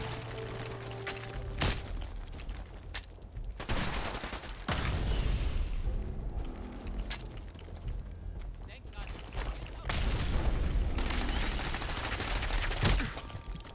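Gunfire in the video game Fallout 4 during a fight with a Mirelurk queen, bursts of shots and explosive blasts recurring over a dense, loud game soundscape, with someone talking over much of it.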